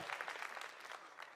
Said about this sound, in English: it's okay to clap for better, y'all